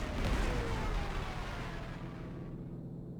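Artillery fire in the wartime strategy game Panzer Corps 2, at Rostov on Don: a loud, dense rumbling barrage that swells at first and then fades into a low, decaying roll over about three seconds, with no voices.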